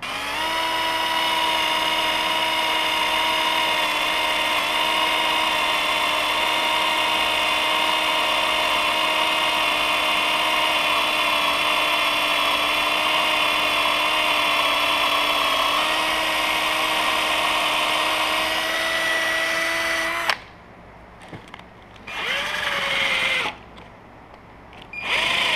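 A power drill bores straight down the center of an LS1 engine PCV part during an LS1-to-LS6 conversion, whining steadily and loud for about twenty seconds before cutting out, then spinning up briefly twice more in short bursts.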